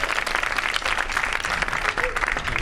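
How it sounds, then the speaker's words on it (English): A concert band audience gives a round of applause for the trumpet section, a dense, continuous wash of clapping from many hands filling the room for a few seconds. "One more round of applause for the trumpets"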